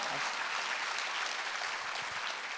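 A church congregation applauds during a Sunday worship service, a faint, steady patter of clapping from across the room.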